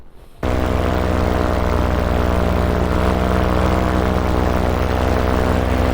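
A paramotor engine at full throttle, recorded in flight, gives a loud, steady droning roar with a strong propeller hum that kicks in abruptly and holds without a break, with no voice audible above it.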